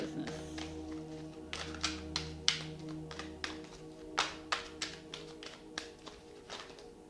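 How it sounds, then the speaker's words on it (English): Tarot cards being shuffled close by, a run of soft irregular taps and flicks in uneven bursts over a quiet background. "you don't have to watch this shuffling business"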